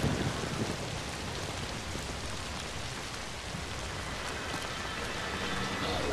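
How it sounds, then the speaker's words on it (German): Steady, dense rain pours down all around in the survival horror game Zombi, a constant hiss of drops with a faint low rumble beneath and no pauses. "Das ist nur der Regen. Und der kommt von allen Seiten."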